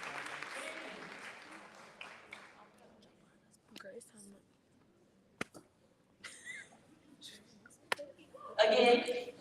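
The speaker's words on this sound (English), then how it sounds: "Again, please give Ms. Cunningham a round of applause." A short burst of audience applause at a university event rises near the end, preceded by quiet murmuring and scattered small noises in a hall.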